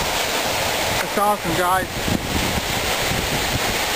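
A waterfall roars steadily in Portland, Oregon, a broad, continuous rush mixed with blowing wind. Someone speaks briefly over the constant water noise.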